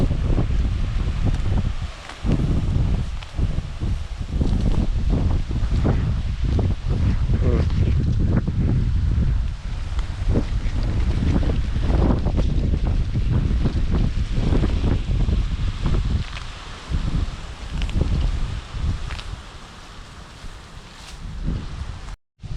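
Strong wind roars and buffets the microphone in continuous rough gusts over a cornfield, with rustling foliage and faint voices underneath.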